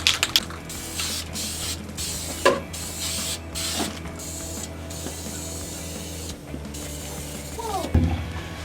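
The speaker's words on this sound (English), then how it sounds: "Finnegan keeps spraying me with gross soapy water." A steady hiss of soapy water spraying runs throughout with mechanical clicks and small bumps, moderately loud and close, while working on a 1965-1970 Ford Mustang fuel tank, with no clear speech.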